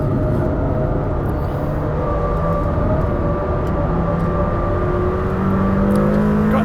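A Lamborghini Temerario's engine revs hard and loud from inside the car, a sustained high-pitched roar climbing steadily in pitch, no talking.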